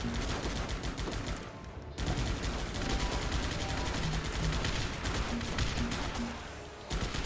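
Dense, continuous rapid-fire gunfire and bursts from the top-down strategy video game Guns Up!, loud and sustained throughout, with a brief dip in the middle before the barrage resumes, mixed with mechanical clatter.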